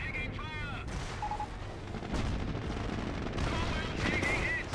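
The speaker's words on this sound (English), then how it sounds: "Sniper gets picked off there by the barrage while at it." Artillery barrage in the Company of Heroes real-time strategy game, with several distant, muffled shell impacts scattered through a busy battlefield din, and game voice chatter heard faintly between the blasts.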